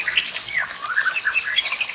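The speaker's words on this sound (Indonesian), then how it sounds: "ini sepertinya jenisnya burung murai" A magpie robin (murai) in the wild gives a run of squawky, chirping calls, close and clear, repeating in quick irregular phrases over a quiet background.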